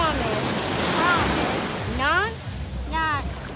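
Ocean surf washing on a beach, a constant loud rushing wash with wind, while voices speak over it in short bursts.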